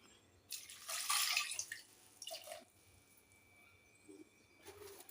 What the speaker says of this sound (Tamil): இதில் ஒரு 2 டம்ளர் அளவுக்கு தண்ணி ஊற்றிடலாம்.